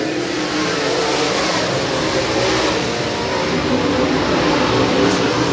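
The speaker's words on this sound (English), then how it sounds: "One more lap to go for the Logan Martin machine." USRA A Mod race cars at Springfield Raceway roar around the dirt oval in a continuous, loud engine drone that swells slightly near the end, with no voices over it.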